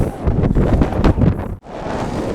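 Steady wind buffets the microphone with loud, rumbling gusts at Gibraltar, dipping briefly before roaring back.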